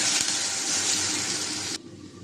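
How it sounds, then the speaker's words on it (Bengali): Water poured into a hot frying pan of fried onion and chili makes a loud rushing hiss that runs for under two seconds, then cuts off to a quiet background. "ভাজা হয়েছে পানি দিয়ে দিলাম"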